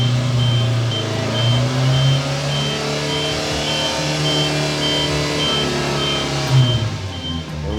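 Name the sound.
Subaru Sambar kei truck reversing out of a garage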